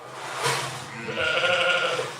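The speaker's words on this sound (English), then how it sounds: "having a little look at the sheep in the nursery pen" Dutch spotted sheep in a nursery pen give a bleat that rises clearly over a noisy farm background, close by and brief.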